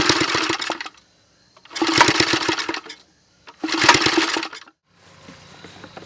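Homemade piston valve engine on a test run, firing in three loud bursts of about a second each, separated by short silent pauses, with a fainter mechanical rattle trailing at the end.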